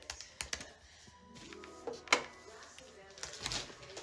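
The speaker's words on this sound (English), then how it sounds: "So I have discovered that Macaroni doesn't like typing" Computer keyboard typing heard as scattered clicks and taps, moderately quiet, with a few sharper knocks mixed in and no clear talk over it.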